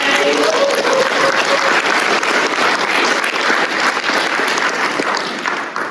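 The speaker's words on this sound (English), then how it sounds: "Yes, let's clap for the UAW strike." An audience claps loudly and continuously, a dense even wash of many hands that holds throughout and only eases slightly at the very end.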